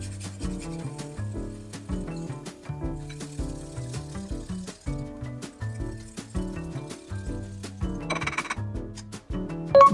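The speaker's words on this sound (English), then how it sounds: "Now it's time to grind the ginger." Fresh ginger is rubbed over a grater in quick, steady rasping strokes, close and fairly quiet, with a brief clatter at the end.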